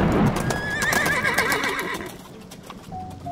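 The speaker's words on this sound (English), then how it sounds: "A horse, a pale horse." A horse gives a loud, wavering whinny over quick, close clip-clopping hoofbeats, then the neigh tails off into quieter hoof sounds.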